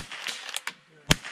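A single sharp rifle shot cracks out at a long-range target about a kilometre away outdoors, loud and abrupt near the end, after a few softer clicks and handling noises.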